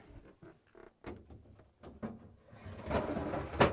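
A plastic refrigerator crisper drawer slides along its rails with a short scraping rumble, ending in a soft bump as it seats, close by and otherwise quiet.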